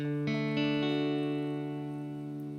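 A guitar chord plucked string by string in quick succession, the notes ringing out together and slowly fading.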